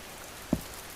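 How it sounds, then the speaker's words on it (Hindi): Heavy cold rain falling outdoors, a faint even hiss that stays steady throughout, broken by one short dull thump partway through, with no voices. "वहीं बाहर ठंड में बहुत तेज बारिश शुरू हो जाती है।"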